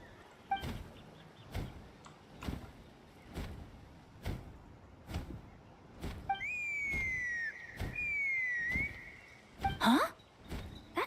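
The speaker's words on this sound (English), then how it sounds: "That sounded like a whistle." A long, clear whistle sounds in Genshin Impact during Chasca's story quest. Its sustained tone slides gently downward, then a shorter rising whistle follows, over a regular series of soft in-game thuds.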